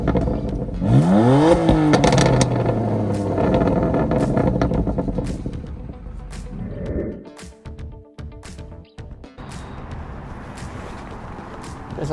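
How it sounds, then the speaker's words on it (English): A 2021 BMW M2 Competition exhaust revs loudly and close up in a rising, sweeping burst early on, then settles into a steady idle rumble with door and interior clunks toward the end. "you guys are going to listen to the exhaust."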